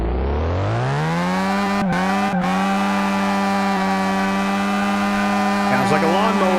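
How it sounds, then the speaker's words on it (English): A Mazda RX-7 rotary engine in the Car Mechanic Simulator 2018 game revs up and holds a loud, steady buzzing drone, briefly cutting out twice and wavering near the end. "Sounds like a lawnmower, which is what a rotary engine is, basically."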